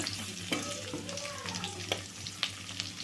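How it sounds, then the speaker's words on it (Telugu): Onion pieces sizzle lightly in a hot oiled pan for egg semiya upma, a steady, soft frying hiss with occasional utensil taps, heard close without talking. "ఇప్పుడైతే ఉల్లిపాయ ముక్కలు అయితే వేసుకుందాము"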